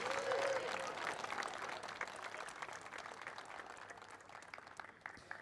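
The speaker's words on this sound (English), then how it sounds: "please give a huge round of applause in third position from Australia in the treble 1, James Agnost" Audience applause at a motorsport podium ceremony for an academy race day in Abu Dhabi, a dense, steady wash of many hands clapping that fades slightly over about five seconds, with faint voices mixed in.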